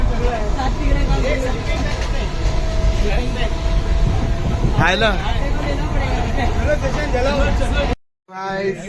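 Rumbling interior of a moving train on a Konkan trip, a constant low roar with a group of people chattering nearby throughout, cutting out briefly near the end.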